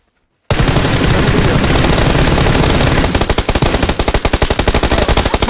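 Loud automatic gunfire from PUBG Lite on the Miramar map begins abruptly after a short silence and keeps going as a dense burst, then turns into distinct rapid rhythmic shots near the end.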